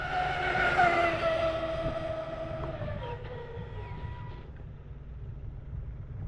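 A Redcat Vigilante RC car speeds off on a pass, its electric motor whining loudly and falling in pitch as it pulls away, fading to a faint distant buzz over outdoor background noise.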